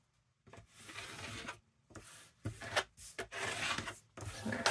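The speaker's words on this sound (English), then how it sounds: "So let's burnish that down." Paper rubbed firmly with a burnishing tool presses down a pocket made from a vintage book page. It produces close, scratchy rubbing strokes in several bursts separated by short pauses.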